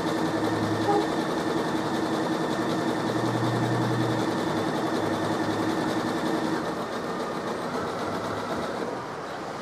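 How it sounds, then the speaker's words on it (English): A Janome Skyline S7 sewing machine stitches quilting in a steady, fast motor whir with rapid needle clatter, close and continuous, easing slightly toward the end with no speech. "The machine will automatically slow down with the stitching."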